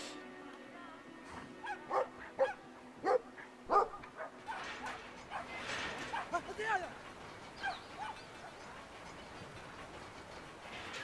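A small dog barks in the video game Brothers: A Tale of Two Sons, with a few sharp yips and barks early on that then fade into voices and other background game sounds.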